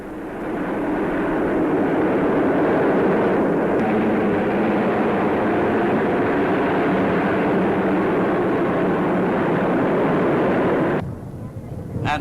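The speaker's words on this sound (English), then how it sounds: "They were followed by the famous Canberra bombers." Canberra bomber jets roar past in a 1953 Royal Air Force flypast in Britain, a loud, broad rushing jet noise that swells and holds for about eleven seconds before cutting off abruptly.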